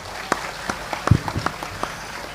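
An audience at an Indonesian religious lecture gives sparse applause: a scattered handful of separate claps, thin and uneven over a quiet hall, with no talking.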